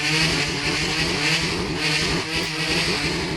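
A motorcycle engine in the Minecraft video game holds a loud, steady buzzing drone with slight pitch wobble, close and continuous, with no speech.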